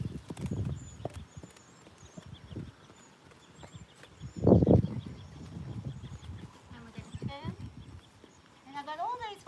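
A horse trots with a light clip-clop of hooves in the company of several other horses, the footfalls moderately close and partly buried under a person talking throughout, with a louder burst of movement midway.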